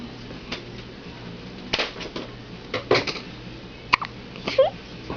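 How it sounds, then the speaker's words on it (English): Several short, sharp hiccups sound in a quiet room, spaced unevenly a second or so apart. "Somebody has the hiccups today."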